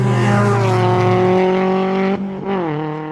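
A loud, high-revving Mazda MX-5 Cup race car engine holds a steady droning pitch, then dips briefly and drops as the revs change, close and continuous.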